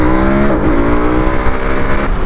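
A motorcycle accelerates hard with a quick shifter, and its loud, close engine note climbs in pitch, drops sharply at an upshift, then keeps pulling steadily.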